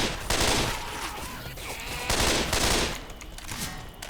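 Rifle fire in the zombie shooter game Left 4 Dead 2: loud, dense bursts of rapid gunshots roll on almost continuously, with sustained rattling volleys and brief dips between them.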